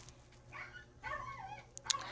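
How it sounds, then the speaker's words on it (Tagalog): Dog in a Minecraft game producing a few short yips and barks, fairly faint and brief, with a whimpering tone, over a low background hum. "Maingay talaga yung aso nila."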